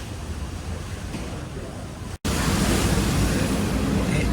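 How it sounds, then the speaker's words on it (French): Small sea waves slap against a cruise ship leaving Barcelona, a steady rushing wash with heavy wind buffeting the microphone and a brief dropout midway. "Vous voyez, par moments, il y a quand même des petites vagues qui viennent taper."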